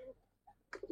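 Domestic pigeons, Giribaz and silver-coloured breeds, coo softly in short throaty bursts: one brief coo early, another midway, then a quick cluster of several coos at the end, close by and fairly quiet.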